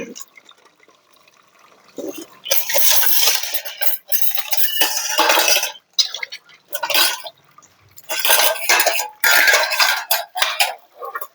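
Tiffin boxes and other dishes being washed by hand, with bursts of running water, splashing and clattering metal containers in loud irregular spurts, a voice speaking at times.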